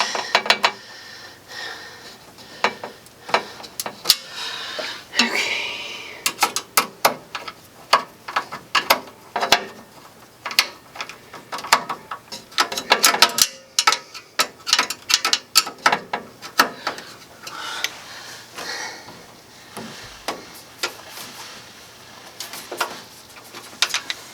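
Part under a Procolored K13 lite printer being tightened, a dense run of close ratcheting clicks and mechanical rattles in quick irregular bursts with brief pauses.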